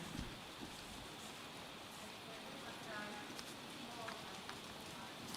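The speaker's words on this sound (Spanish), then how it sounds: "porque está lloviendo fuerte afuera" Heavy rain falling outside, a steady, faint broadband hiss and patter that fills the whole stretch, with a voice briefly audible underneath.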